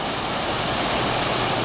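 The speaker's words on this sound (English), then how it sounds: "There's a little waterfall" A small waterfall in Roma Street pours with a steady, loud, broadband rush of water. It sounds close and continuous, with no voices.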